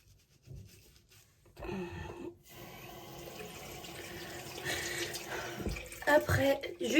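Tap water runs into a sink while a face is rinsed, with soft splashing and rubbing sounds that build and become more irregular toward the end; a voice is faintly present.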